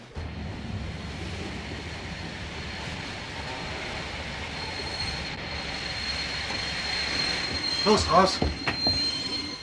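A train rumbles steadily and brakes to a stop on open track near Traunstein. Wheels squeal and metal clanks near the end, with a voice shouting briefly over it.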